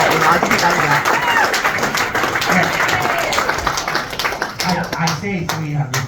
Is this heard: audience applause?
yes